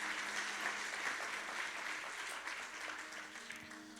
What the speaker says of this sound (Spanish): Give a round of applause to the Lord.